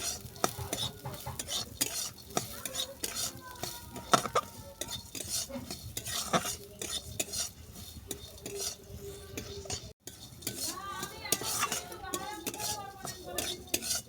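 Lentils for a cabbage dal being stirred and dry-roasted in a pan, with a utensil scraping and clinking steadily against the metal over a faint sizzle throughout.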